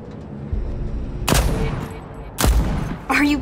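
Gunshots from a gun in Deathloop go off in three sharp, loud bursts spaced about a second apart, each with a short decaying tail over a quieter background.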